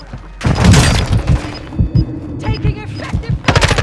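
Gunfire in a Call of Duty: Modern Warfare II match, dense rapid shots and impacts crackling loudly and close, with players talking over the shooting.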